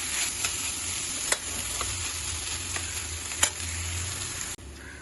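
Grated coconut and jaggery sizzle softly in a pan while a spoon stirs them, a steady close crackle broken by a few sharp scraping clicks near the end.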